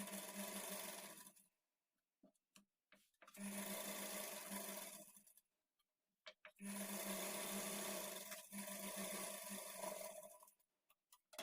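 A sewing machine runs edge stitching along a blouse lining in three long bursts, steady and close, with short pauses and small handling clicks between runs.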